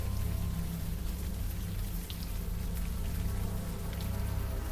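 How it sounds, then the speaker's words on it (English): Warm rain coming down in the open air, steady and dense, a continuous even hiss of falling drops from start to finish with no talking. "Now that it's out in the open air and the warm rain is coming down"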